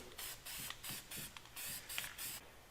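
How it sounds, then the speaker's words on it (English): Rattle-can spray paint hisses out in repeated short bursts, each a steady broadband spray cut off cleanly before the next, quiet and fairly close, during work on a 302 Skidoo snowmobile. "Let's get a rattle can going on over here."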